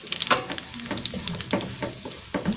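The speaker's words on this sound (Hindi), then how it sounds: "राई अच्छे से गर्म हो गई है। अब इसकी आवाज़ आने शुरू हो गई है।" Mustard seeds heating and crackling in hot oil for a tempering over a stove, heard as scattered sharp pops and sizzles, close and moderately loud, with no talking.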